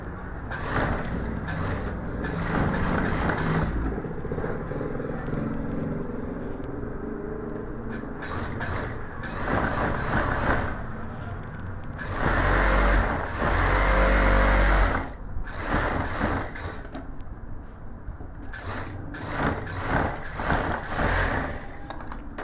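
Sewing machine stitching fabric for a gents suit, running in repeated loud mechanical bursts with short pauses between runs, no talking.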